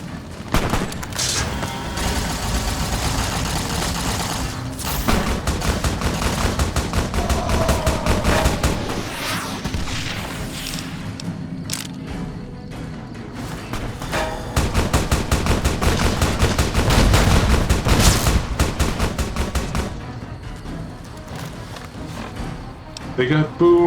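Friendly gunfire in the game Fallout: New Vegas, long stretches of rapid automatic bursts and single shots with booms, dense and loud, broken by short lulls, under someone talking.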